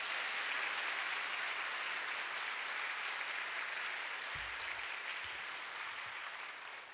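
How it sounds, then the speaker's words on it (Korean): A church congregation at a healing revival service in Atlanta claps steadily, a broad, even wash of applause heard from some distance at low level and fading slightly toward the end. "우리 할렐루야를 크게 박수로 환영하시겠습니다"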